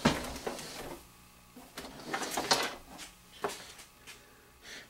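An RCA Selectavision CED videodisc player being turned around on a surface, with several close scraping, sliding and knocking handling sounds, a few louder thumps, no talking.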